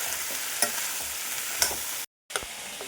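Ingredients for a chickpea curry fry in a pan, giving a steady sizzle with occasional scraping stirs and taps of a utensil, close and alone, broken by a brief cut.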